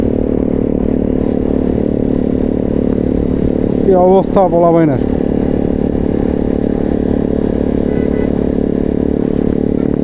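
A 150cc motorcycle fitted with a loud aftermarket exhaust gives one short rising-and-falling rev over constant road and wind roar while someone talks nearby.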